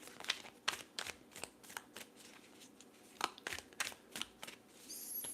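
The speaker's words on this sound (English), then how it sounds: "So let me just make sure I shuffle the cards." Crisp riffling bursts of playing cards being shuffled, repeated in quick irregular clusters, close and fairly quiet.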